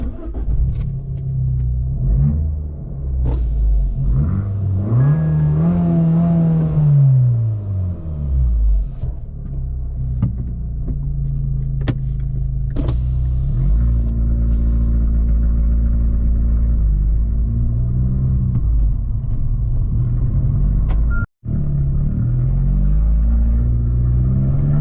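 Abarth 595 Competizione engine droning loud and steady while driving, with a rising and falling rev sweep early on, constant low rumble throughout and a brief dropout near the end.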